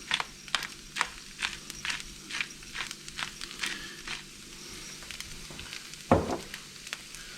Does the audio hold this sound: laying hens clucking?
no